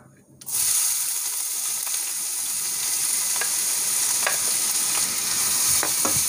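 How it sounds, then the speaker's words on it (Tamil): Finely chopped onions dropped into mustard seeds in hot oil for Kerala-style fish polichathu, a sudden loud sizzle that then holds steady, with scattered clicks from stirring and popping seeds. "கடுகில் சேர்த்துட்டு நல்லா வதக்கி விட்டுருங்க"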